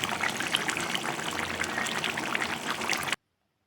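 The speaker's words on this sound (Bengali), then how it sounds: "এবার পরিমাণ মতন গরম জল দিয়ে ভালো করে মিশিয়ে নিচ্ছি।" Hot water pours steadily into a Bengali baim fish curry, a close, continuous splashing trickle that runs for about three seconds and then stops abruptly.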